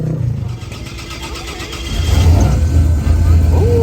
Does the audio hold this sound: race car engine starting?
yes